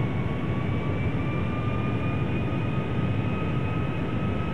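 Simulated Boeing 757-200 engines in a flight simulator game, drawn as the QualityWings model, hum with a steady, unbroken jet roar and a faint sustained whine, even in level from start to end.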